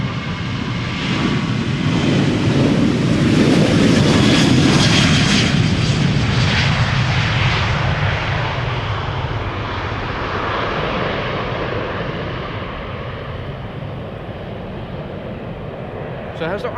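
A Ryanair jet departing Amsterdam Schiphol for Dublin, a loud, steady engine roar that builds early and then slowly recedes into the distance, with talking heard over it.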